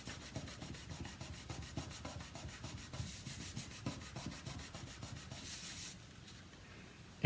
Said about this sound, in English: I'm going to push and hold. I'm going to rub.